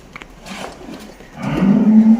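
A buffalo heifer's moo rises after a second of quiet shuffling, a low drawn-out call that grows louder toward the end, close by.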